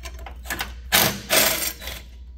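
A ratchet wrench works the bolts off the recoil starter housing of a vintage Honda Odyssey dirt track race car engine, giving close, loud bursts of rapid clicking with brief pauses between them.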